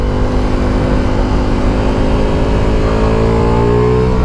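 Ducati Multistrada Pikes Peak motorcycle with an aftermarket exhaust pulls hard under acceleration, its engine note climbing steadily and loud, close to the microphone with no talking.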